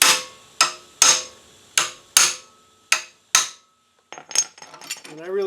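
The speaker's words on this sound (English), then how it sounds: "now I'm going to give this a couple taps with a hammer" Seven sharp metallic framing-hammer strikes ring out at a steady pace on a 1999 Honda FourTrax 300 rear brake, each decaying quickly, followed by a brief clatter of lighter metal.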